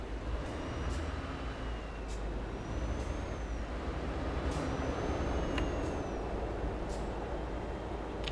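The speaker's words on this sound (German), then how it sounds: "Hinter uns ist auch ein LKW, so wie es klingt" Euro Truck Simulator 2 truck driving in a convoy with another truck close behind: a steady low engine and road rumble throughout, with brief sharp hiss-like bursts, likely air brakes, popping up every second or so.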